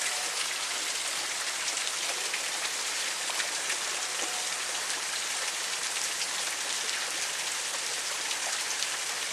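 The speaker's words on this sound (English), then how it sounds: "I know you can't see it, but you can hear it. Pissing rain out." Heavy rain pours steadily outdoors, a dense, continuous hiss of drops drumming on surfaces with no letup and no voices.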